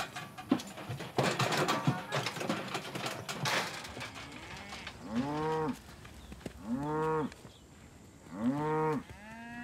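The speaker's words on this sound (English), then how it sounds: "Heck of a good fat cow." Fat beef cattle mooing on a ranch, three long, loud bellows following a stretch of rustling and clatter, with pauses between each call.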